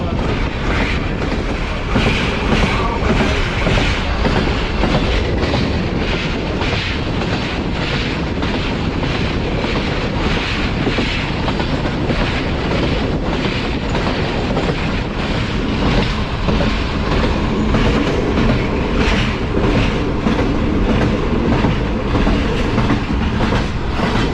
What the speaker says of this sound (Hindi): अभी दरिया जेलम से पास हो रही है 6 डाउन ग्रीन लाइन